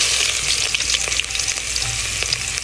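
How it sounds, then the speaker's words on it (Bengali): Chopped onions fry in hot oil for a vegetable khichuri, a loud, close, steady sizzle with intermittent scraping stirs throughout. "এবার আমি পেঁয়াজ কুচি দিয়ে দেব,"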